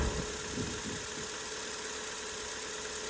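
An MGF car engine idles with revs raised slightly after startup, a steady even drone with constant vibration and airy exhaust hiss, alone and close.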